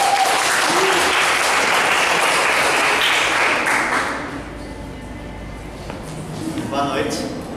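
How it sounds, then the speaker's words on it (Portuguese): An audience at an evening presentation event applauds a presenter with loud, full clapping that thins after a few seconds, then scattered claps remain and voices murmur. "um aplauso para o Rafa"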